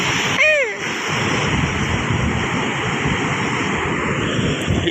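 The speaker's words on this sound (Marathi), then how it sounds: "ती पाणी काय इतकं वाहतंय आता इकडं अख्खं पलीकडं पण आहे" Water rushes strongly through channels in a rural farm field, a loud, constant churning wash; a brief voice sounds near the start.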